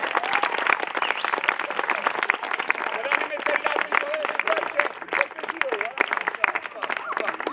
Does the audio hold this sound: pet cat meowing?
no